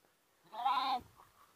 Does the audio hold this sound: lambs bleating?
yes